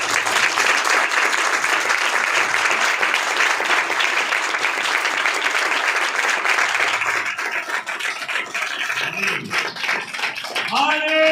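A church congregation claps loudly and continuously in praise, a dense, steady wall of applause that thins slightly toward the end, where a voice and music-like tones begin.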